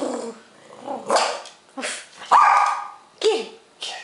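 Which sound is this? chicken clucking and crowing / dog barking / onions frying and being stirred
dog barking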